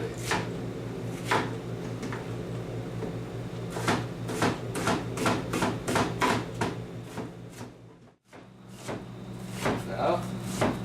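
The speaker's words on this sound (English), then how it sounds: "I'm still chopping onions." A knife chopping onions on a cutting board for French onion soup makes sharp, irregular knocks at a steady working pace, close by, over a constant low kitchen hum.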